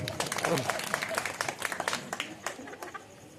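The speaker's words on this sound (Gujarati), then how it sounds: "એમને તાળીથી વધાવો" An audience at a religious gathering, a celebration with visiting maharajs, claps to welcome a speaker, with a burst of scattered applause under a speaking voice that thins into sparse claps.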